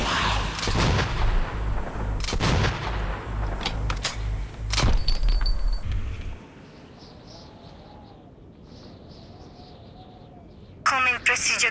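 Missile launch in the first-person shooter Metro 2033: a heavy, loud roaring blast with repeated booming bursts for about six seconds, then a quiet low rumble and faint tones, ending with a short sharp crackling burst.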